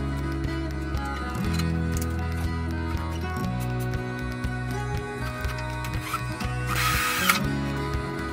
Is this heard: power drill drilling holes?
yes